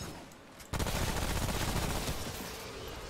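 Rapid gunfire from the video game Remnant: From The Ashes bursts in abruptly after a quiet moment, a loud dense fusillade of shots that keeps going and slowly fades.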